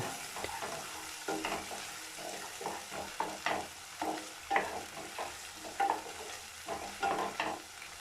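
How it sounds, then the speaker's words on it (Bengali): Spice masala stirred and fried with a little water in a pan for a Bengali tangra fish curry with potato, eggplant and lentil dumplings: steady sizzling under repeated scraping stir strokes, close and fairly loud, no talking. "মশলাটা খুব ভালোভাবে নাড়াচাড়া করতে থাকবো এবং খুব সুন্দরভাবে সেটা কষে নেব"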